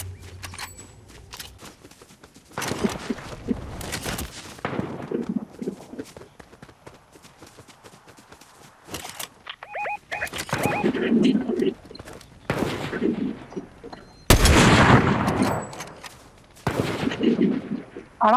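A scoped assault rifle fires in Fortnite: sharp gunshot bursts break out at irregular intervals over a quieter background.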